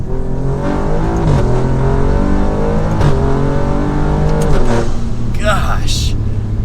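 From inside the cabin, a tuned 600 HP turbocharged Alfa Romeo Giulia Quadrifoglio accelerates hard, a loud steady engine roar climbing in pitch, then dropping as the throttle lifts, with a brief burst of turbo hiss near the end.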